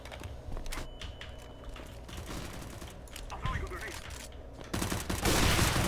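Gunfire in the video game CS:GO crackles in rapid bursts and scattered shots over a busy, dense mix of game sounds, growing louder near the end.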